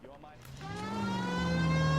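A police car siren in the video game L.A. Noire winds up from low, its wailing tone climbing in pitch and swelling to a loud sustained note over an engine rumble.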